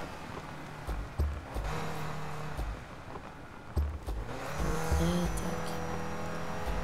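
BMW 1 Series M Coupé in Need for Speed Most Wanted (2012), the engine revving and accelerating with brief tire squeals and sharp thumps, a continuous moderate drone throughout.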